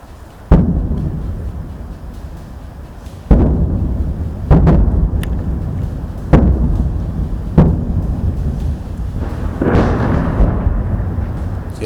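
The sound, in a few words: artillery shelling explosions across the India-Pakistan border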